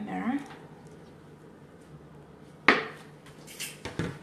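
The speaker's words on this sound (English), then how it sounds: "I'm just grabbing my spatula." Kitchen utensils rattle and clink as a spatula is grabbed while making a Jamaican spiced Easter bun, a single sharp metallic clatter followed by a few lighter clinks, close by, with a voice speaking faintly before.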